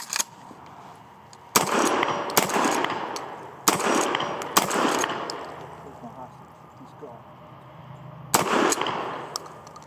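A Mossberg Maverick 88 pump shotgun firing 2 3/4 inch loads booms in about six loud, sharp blasts at irregular intervals, each trailing off in a ringing decay, with some talk between shots.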